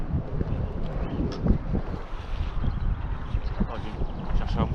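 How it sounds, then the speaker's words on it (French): Wind gusts across an outdoor RC car track, a steady broadband rush and buffeting against the microphone throughout. "avec ce petit vent. Ouais, le vent là"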